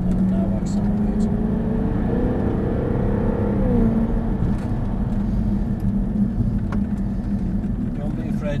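Supercharged 3.0-litre V6 Jaguar F-Type R pulling hard on a circuit, a steady, moderately loud engine drone rising in pitch as it accelerates, with an instructor's voice talking over the engine sound.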